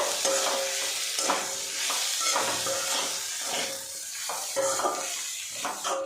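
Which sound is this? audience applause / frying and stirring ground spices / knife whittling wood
frying and stirring ground spices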